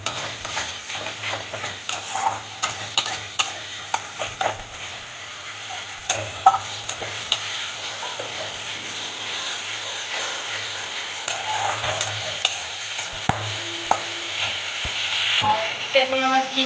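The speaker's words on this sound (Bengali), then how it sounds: "পেঁয়াজ আর টমেটো হালকা হালকা করে ভাজা যখন হয়ে যাবে" Onion and tomato fry in a pan with ginger and garlic paste, giving a steady close sizzle broken by frequent clicks and scrapes of a spoon stirring, with no talk.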